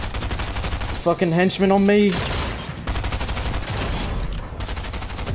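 Gunfire in a competitive console shooter match: rapid bursts of loud shots crackle steadily across the whole stretch, while a player speaks briefly over the shooting.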